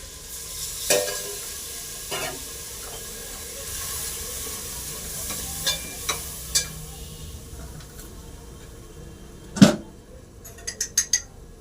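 Tempering spices for rice sizzle and crackle in hot oil under a low steady frying hiss, with occasional clinks of a spoon against the pan and a sharp clatter late.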